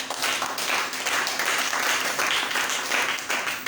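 Church congregation applauding and cheering together in a steady, dense burst of clapping that stays loud throughout, with a faint voice underneath.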